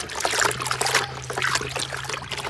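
Warmish water trickling and splashing over a goat as it is wet down before a lice shampoo, a steady close pour with a low hum underneath.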